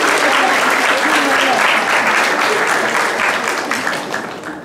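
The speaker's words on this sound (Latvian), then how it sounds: "Tad vēlreiz aplausi." A crowd at a school graduation evening applauds in a long, steady wave of clapping that fades toward the end, with talk mixed in.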